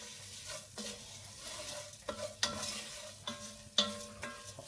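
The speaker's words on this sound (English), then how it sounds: "So in with our lentils, put them in first, give a little bit of a stir." Lentils are stirred into a butternut squash dahl in a pot. A spoon scrapes and knocks in several distinct strokes over a faint background sizzle, fairly quiet and close, with no talking.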